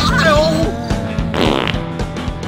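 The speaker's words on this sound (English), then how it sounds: "I farted, it's wet" A cartoonish fart from the redneck-themed video game Redneck Rampage: one long, loud, wet, blubbering squelch that runs through most of the clip over a looping game soundtrack.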